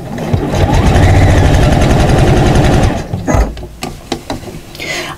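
Sewing machine stitching a fabric storage case, a fast steady mechanical chatter of needle strokes running loud and close for about three seconds, then stopping and leaving a few scattered clicks and handling knocks.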